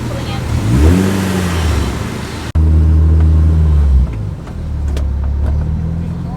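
Car engines rumble and rev in heavy Jakarta traffic as a car pulls in to a pop-up car meet, a strong close drone with rising and falling pitch sweeps, briefly cut and resuming, under background voices.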